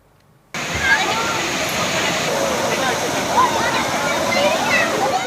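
Rushing stream and waterfall beside a forest at Mallankuzhi, Kadangode, a monsoon tourist spot: a loud, steady wash of falling water that starts abruptly after a brief quiet moment and continues unbroken.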